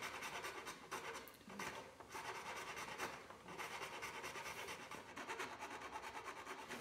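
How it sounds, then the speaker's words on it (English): A hand file works the corner of a wooden baseboard with continuous, fairly quiet scraping strokes heard close up. "So I'll do a little bit of filing, make sure I get the part where the miter saw did not get."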